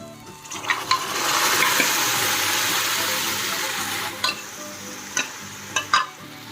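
Pressure-cooked mutton pieces are tipped into hot oil with spiced masala and stirred, giving a loud, steady sizzle that fades into a few sharp scraping and clinking stirs.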